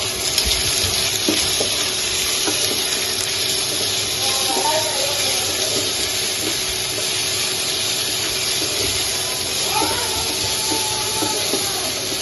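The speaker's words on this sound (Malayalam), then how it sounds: "കുറച്ച് ഉപ്പ് കൂടെ ഇട്ടിട്ട് നമുക്കത് നന്നായിട്ടൊന്ന് വഴറ്റി കൊടുക്കാം" Ivy gourd sautéing with salt gives a steady, close frying hiss with scattered stirring scrapes and a couple of brief tonal squeaks, running continuously throughout.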